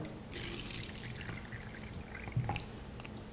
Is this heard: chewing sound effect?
no